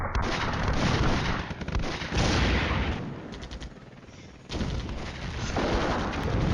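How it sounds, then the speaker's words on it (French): Artillery bombardment in the Flashpoint Campaigns Cold War game booms in heavy, rumbling waves of overlapping blasts, loud and continuous with a brief lull midway and no talking over it. "De l'artillerie qui était en on-call a donc été appelée par une des unités à proximité et bombarde"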